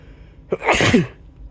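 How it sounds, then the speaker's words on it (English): A single sharp sneeze bursts out close by after a quick intake of breath, then quiet. "Oh, sorry for that sneeze."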